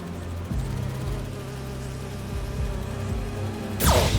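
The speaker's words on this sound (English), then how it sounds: "Do you see those little holographic bee wolves?" Holographic bee wolves in Marvel's Spider-Man 2 giving off a steady droning insect-like buzz with low hum, continuous and close, ending in a sudden sharp whoosh.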